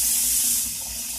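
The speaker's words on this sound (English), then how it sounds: "fill the bowl with water" Tap water running into a bowl to cover pomegranate seeds, a steady bright hissing rush that eases slightly as the bowl fills, close and alone.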